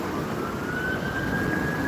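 A steady ambulance siren wail holds a sustained, slowly rising tone over low city traffic rumble, continuous and fairly distant throughout.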